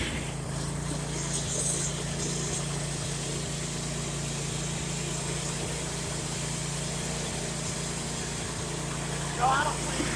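John Deere LA150 lawn tractor with gear drive transmission, its engine running rough with a steady low drone throughout, close by, with a faint clank near the end.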